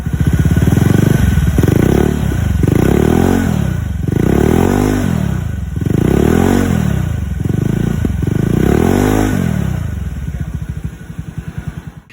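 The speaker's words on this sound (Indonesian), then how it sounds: "Di sini knalpotnya gue ganti pakai model standar racing dari WRC. Ini gue request suaranya super bass." A Honda Vario 110 scooter fitted with a WRC racing exhaust tuned for deep bass revs repeatedly, each loud, booming throttle blip rising and falling in a steady cycle before settling to idle, with no talk over it.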